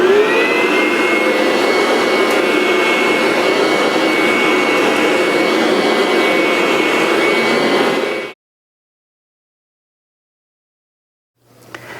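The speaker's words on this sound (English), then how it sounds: "I'm going to pre-vacuum" A vacuum cleaner roars steadily and loudly for about eight seconds while pre-vacuuming carpet, then cuts off abruptly into silence before a faint sound returns at the end.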